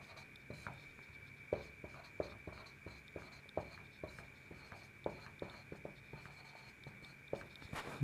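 Chalk or marker strokes tap and scrape across a board as a vector formula is written, a quick irregular series of short sharp contacts, close and clear over a faint steady hum with no talk.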